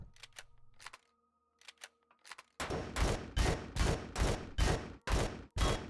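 Gunfire in Empyrion: Galactic Survival aimed at generators and vertical blinds, first a few sharp isolated shots, then a steady run of about eight loud, evenly spaced blasts, each with a short ringing tail.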